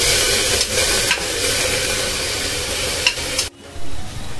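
Fresh tomatoes hit a hot pressure cooker for tomato soup, giving a loud, close, steady sizzle with stirring scrapes. The sizzle cuts off abruptly near the end, then surges back.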